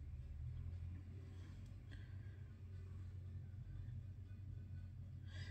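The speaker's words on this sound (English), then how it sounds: "I just heard the car start actually" A car engine runs outside a window, a steady low rumble holding through the whole stretch with no voices over it, muffled and somewhat distant.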